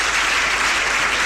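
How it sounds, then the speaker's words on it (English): A broadcast audience gives a round of applause, dense and loud, a brief continuous burst of many hands clapping together. "Brother Joshua Ansah, who I believe deserves a round of applause"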